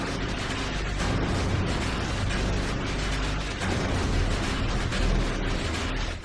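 Abrasive, noise-like industrial music from the Silent Hill video game soundtrack: a dense, loud wall of grinding, clattering noise that churns without pause, with a brief dip midway.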